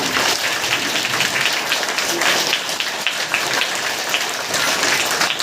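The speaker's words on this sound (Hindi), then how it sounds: "जोर से तालियां दो." Applause from an audience at a Kendriya Vidyalaya school welcome ceremony, a dense, steady patter of many hands clapping continuously at fairly loud level throughout.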